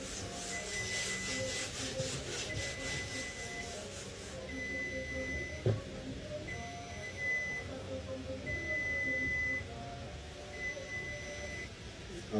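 Wiping and cleaning a wooden pastry table before making croissants, soft rubbing strokes at moderate distance with faint background noise and occasional thin electronic beeps.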